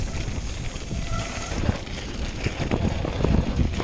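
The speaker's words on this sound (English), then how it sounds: "Just wet and windy up here now." Gusty wind buffets the microphone on a wet, windy winter mountain bike descent on South Barrule, a broadband roar that rises toward the end, close and continuous with no speech.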